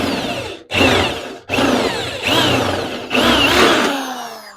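A power drill with a 6.5 bit whines through car body metal in four loud bursts, each briefly pausing before the next, with the motor pitch shifting as it bites.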